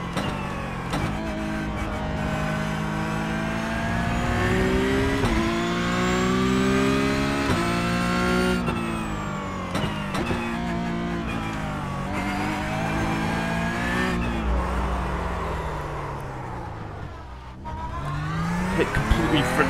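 A Porsche Cup race car in the iRacing sim at Aragon, its engine loud and constant, climbing and dropping in pitch through repeated upshifts and downshifts, with brief tire noise and a voice faintly underneath.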